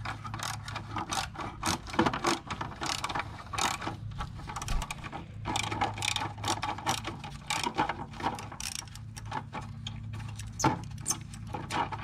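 A ratchet with a 10 mm socket loosens a bolt on a Kia Optima 2.0L four-cylinder turbo engine, producing a steady, close run of rapid metallic clicking with no voices.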